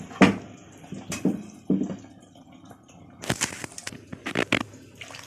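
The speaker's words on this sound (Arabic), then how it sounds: "كده انا حطيت على دي شوربه اهي" Broth is poured over stuffed lettuce and cabbage rolls packed in a pot, with close liquid splashes and drips in short bursts that turn into a denser run of splashing and trickling near the end.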